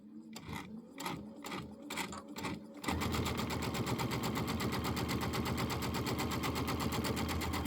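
A sewing machine stitches quilt block pieces, first in short separate bursts, then in a long continuous fast rattle of stitching, close up and alone.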